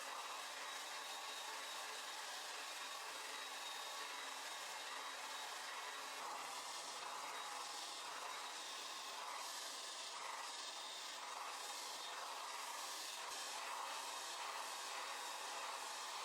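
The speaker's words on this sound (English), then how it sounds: "now I'm gonna take my blow dryer and a brush and blow dry the top just to flatten it" A blow dryer runs continuously with a steady airy roar on a straight wig, a faint rustle of brushing beneath it, and no one speaking.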